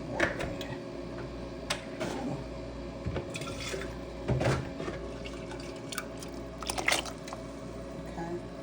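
Water is poured into a homemade eggshell fertilizer mixture in a container, a continuous splashing and dribbling flow with a few clinks and knocks, close up.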